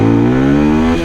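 Daytona Dymoto 125 motorcycle pulling away from a stop, its small single-cylinder engine revving up loud and close in one continuous rising drone for about a second, with no voices.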